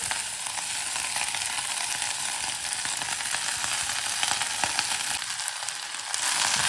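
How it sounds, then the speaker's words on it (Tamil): Drumstick leaves sauté in a pan for a drumstick-leaf soup, producing a continuous, even frying sizzle with faint stirring ticks throughout and a slight swell near the end, with no voices. "இது அப்படியே கொஞ்சம் வதக்கிக்கலாம் இப்போ ரெண்டு கைப்பிடி அளவு முருங்கைக்கீரை"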